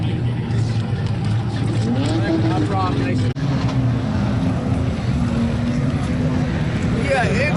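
Mazda Miata driving on a race track at Orlando Speed World, a steady engine drone with pitch sweeping up and down as it runs, heard from inside the car under people talking.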